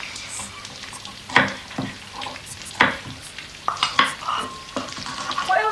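Curry ingredients including beef, yogurt, garlic and ginger stirred in a sizzling pan: scraping strokes of a utensil every second or so over a constant frying hiss, close up, with faint voices in the background.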